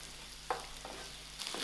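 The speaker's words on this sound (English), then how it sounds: "Frying the rice brings up a nutty flavor." Rice frying in a pan for seafood paella, a quiet steady sizzle with a few soft stirring scrapes close by and no voices.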